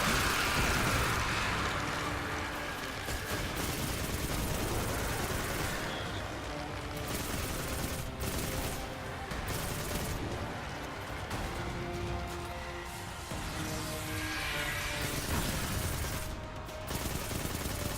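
Gunfire in Destiny 2, a steady barrage of shots and blasts rattling throughout, mixed with a dense wash of battle noise and rumbling effects at moderate, even loudness.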